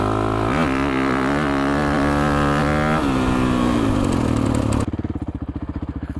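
An uncorked 2026 Honda CRF450X dirt bike rides a trail, its engine loud and close, revving up through rising pitch sweeps before dropping to a rhythmic, throbbing lower-gear pull at the end.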